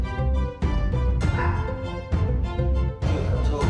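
A small neglected dog barks and yips on a rooftop in a loud, rapid, continuous run of sharp barks close to the listener, with no voices over it.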